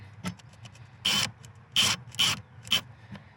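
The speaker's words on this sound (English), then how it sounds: "line up the screw, and gently tighten this down because you do not want to over tighten the plastic" Four short rasping squeaks of a screw biting into a plastic MOLLE panel holster mount on a Jeep, spaced unevenly, close and fairly loud over a quiet background.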